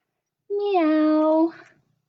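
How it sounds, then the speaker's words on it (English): A single clear cat meow, drawn out for about a second and rising then falling slightly in pitch, close and alone against silence. "All I know is cats go"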